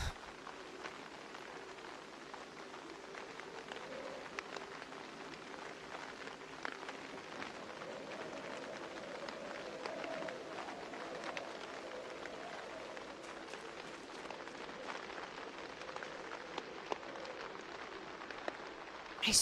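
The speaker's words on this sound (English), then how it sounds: "I swear, the rain sounds crazy." Steady rain falls in Project Zomboid, a continuous hiss with scattered drips and patters and a faint low hum beneath, with no talking.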